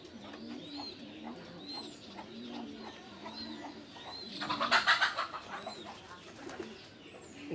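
A young racing pigeon, the offspring of a racing bird, coos in a soft, repeated rhythm close by, with a few brief sharper calls from other birds in the middle.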